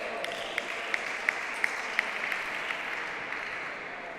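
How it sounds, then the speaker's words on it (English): Table tennis players at a national cadet and junior championship stand and clap for their teammate after a rally, a steady burst of applause with a few sharp claps standing out over a busy indoor hall. "The Grantham College players standing up, applauding their player"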